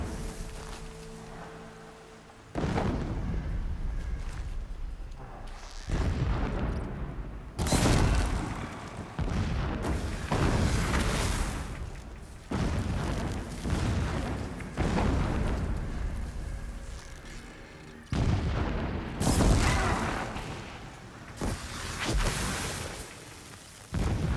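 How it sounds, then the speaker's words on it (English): Distant explosions in the video game Horizon Zero Dawn: a series of heavy booms and rumbling blasts at irregular intervals, each sharp onset fading into a low roar, continuing throughout. "Explosions in the distance."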